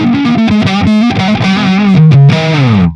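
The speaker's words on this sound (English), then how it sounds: "Very nasty rock and roll, fuzzy, especially on the neck pickup." Fuzzy, nasty rock-and-roll electric guitar on the neck pickup, run through a Friedman IR-X. Loud, distorted chords and notes ring out continuously with sparkle and sustain, with no talking.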